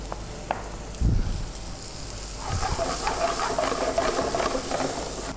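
Onion fries in a pan, a thin hiss at first, then a louder, steady sizzle after a brief knock, crackling close by with no one talking.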